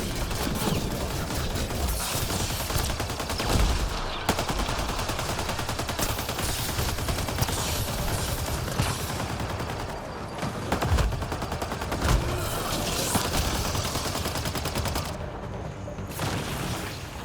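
Sustained rapid automatic gunfire from a high-capacity weapon firing incendiary ammo in the video game Mass Effect: Andromeda, dense loud bursts of shots with booms continuing almost without pause, no voices.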